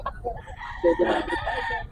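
A rooster crows among chickens at a market stall, one short, fairly close crow rising over a low background murmur.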